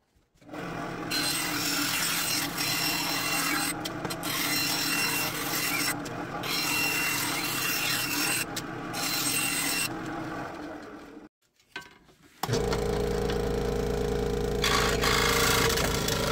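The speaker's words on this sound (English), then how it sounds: "And bandsaw time." A bandsaw cuts through wood with a loud, rasping whine that holds steady for several seconds at a time, breaking off in brief pauses between passes before the machine's tone shifts near the end.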